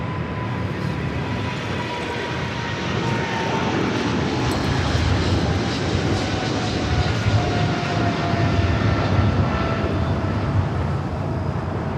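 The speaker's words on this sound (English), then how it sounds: "Eva Air Cargo 777." An EVA Air Cargo Boeing 777 roars past at LAX, a loud, steady broadband jet-engine rush with a faint whine, swelling slightly midway and holding strong throughout with no voices.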